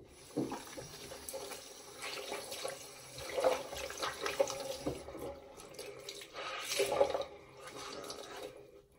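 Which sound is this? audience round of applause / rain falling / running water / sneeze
running water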